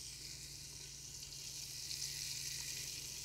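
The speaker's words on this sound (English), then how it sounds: "So we're just going to let that brown for a couple minutes." Beef browning in a pressure cooker gives a steady, moderately loud sizzle of frying meat that holds even and continuous throughout, with no talking.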